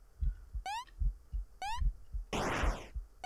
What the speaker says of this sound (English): but there's heartbeats too